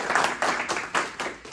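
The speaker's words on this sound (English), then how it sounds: "Give him a round of applause." Audience clapping for the founder of a war comic at an anniversary event, a short burst of several loud, uneven claps close by, with no talk over it.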